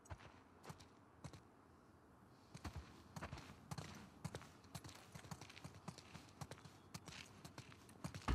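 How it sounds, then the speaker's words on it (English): Horse hooves clip-clopping in The Last of Us Part 2, a quick uneven run of sharp knocks that grows busier over several seconds, with low wind and ambience behind. "Let's get back to the horses."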